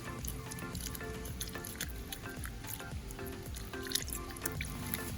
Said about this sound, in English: just mixing it well into the water